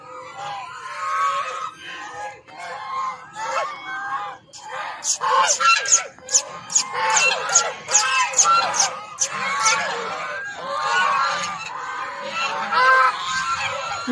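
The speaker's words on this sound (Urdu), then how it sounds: "دیکھیں جی بطخیں ہی بطخیں" A large flock of ducks quacks and honks in a noisy, irregular chorus, sometimes sparse and sometimes surging into loud bursts, with a voice speaking over it at times.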